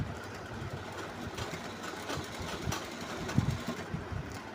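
A three-cornered flower design is stitched onto fabric with a rapid, rattling mechanical rhythm that runs continuously, with small irregular knocks along the way.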